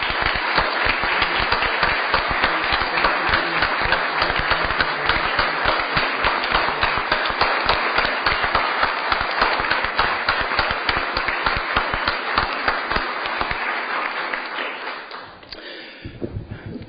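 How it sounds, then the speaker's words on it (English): A room of people at a St. Louis Board of Aldermen meeting stands and claps in a dense, sustained round of applause that fades out near the end. "Let's all stand and give his wife and kids a round of applause"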